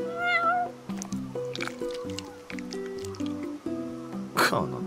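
A cat meows in the Final Fantasy XV video game, with a few short meows heard over a steady game music background and a brief sharp effect near the end.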